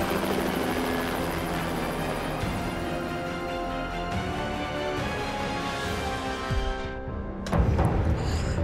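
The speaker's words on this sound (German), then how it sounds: "Wir sind mit dem Helikopter entkommen." A helicopter in the Hitman video game makes its escape, a steady whirring rotor drone with a thick engine hum that fades out near the end, then a brief louder burst.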